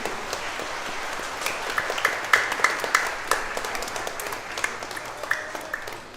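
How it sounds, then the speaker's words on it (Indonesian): A church congregation applauds couples celebrating wedding anniversaries at a Sunday Mass, steady moderate clapping from many hands filling the room throughout, fairly distant and even. "Kita memberikan dukungan tepuk tangan untuk mereka."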